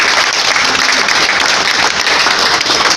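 Loud, dense applause from a church congregation during a deliverance service, steady and continuous clapping filling the room with a few voices mixed in.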